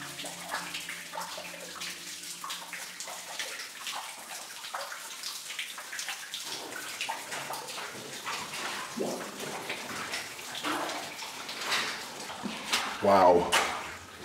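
Water trickling and splashing through old timbers inside an abandoned gold mine, a steady wet patter with scattered drips and louder splashes, close by, with people talking quietly underneath.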